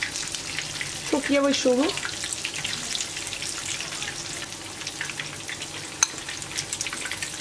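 Zucchini fritters (mücver) frying in a pan, a steady crackling sizzle throughout, with a short voice passage early on and a single sharp tap later.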